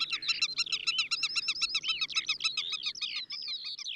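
A black-tailed godwit calls repeatedly while defending its nest in a meadow, rapid sharp piercing notes in a fast excited series, close and loud, with no voices.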